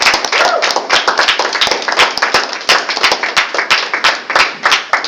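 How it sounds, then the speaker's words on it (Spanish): A live audience claps for the province of Puerto Rico, individual hand claps clearly distinct in a brisk, irregular rhythm, fairly close and loud. "un aplauso para la provincia de Puerto Rico también"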